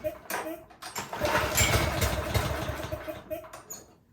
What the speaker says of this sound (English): now we can test it, make sure it pulls the engine over